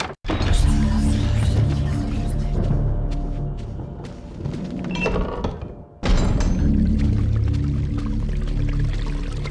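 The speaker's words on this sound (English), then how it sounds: "Dumping the urn in the foul-smelling fountain, it becomes filled to the brim with rank fluid." An urn of foul fluid is dumped into a foul-smelling fountain in Eternal Darkness: Sanity's Requiem, a long, steady pouring rush over low game music, breaking off briefly near the end before the ambience resumes.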